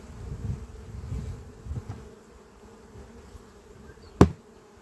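Bees buzzing steadily around a hive on a hot day, a low continuous drone with a single sharp knock near the end.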